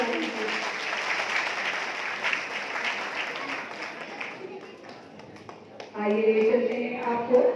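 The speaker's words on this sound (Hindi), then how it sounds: "जोरदार तालियां बजाइए।" Audience at a Savitribai Phule commemoration event in Kanpur claps vigorously and steadily for several seconds. The clapping then thins out and fades, and a voice begins speaking clearly near the end.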